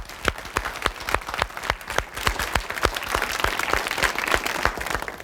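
An audience applauds a band, a dense, steady wash of many hands clapping with sharp individual claps standing out, sustained and fairly loud throughout.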